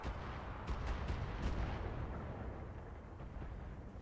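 Missiles fire in a burst of repeated blasts and rumbling explosions from a mech in the Battletech video game, dense and booming with a few sharp pops early on, then a sustained low roar.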